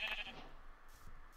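A Minecraft sheep bleats in the video game, one clear bleat near the start and fainter sounds after, with no talk.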